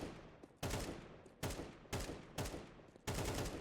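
Bursts of gunfire from the video game Counter-Strike 2: five loud, sharp volleys at roughly half-second gaps, each cutting off abruptly between strafing pauses, with no talk.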